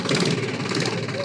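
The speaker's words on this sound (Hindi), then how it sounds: "इधर मैं ट्रैक्टर को स्टार्ट करके आपको दिखा रहा हूँ" A Sonalika Tiger DI tractor diesel engine runs at a steady, loud idle after starting, with an even mid-low chug throughout; a voice may be faintly present.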